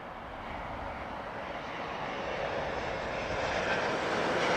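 An Aer Lingus A320neo inbound from Cork arrives at Heathrow as a distant, faint, steady jet roar that swells slightly as the airliner approaches, with no voices.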